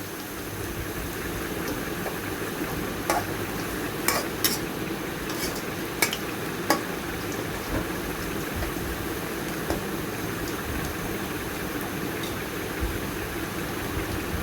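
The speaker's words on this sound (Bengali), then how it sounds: "একটু লাল হওয়া পর্যন্ত অপেক্ষা করব আমার পেঁয়াজ রসুনগুলা বাজা বাজা হয়ে গিয়েছে" Onion and garlic frying in a pan for a Bengali dish of rooftop-garden Malabar spinach with red lentils, a low steady sizzle with occasional clinks of a utensil against the pan.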